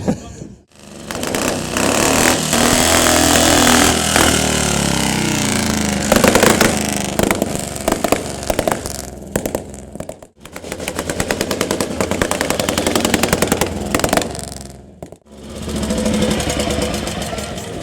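An Italian racing motorcycle at a classic bike show runs loud and close, with rapid machine-gun-like firing and sharp throttle blips between brief drops, first sputtering and then clearing into steady revving.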